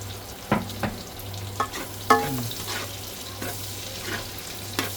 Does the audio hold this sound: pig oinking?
no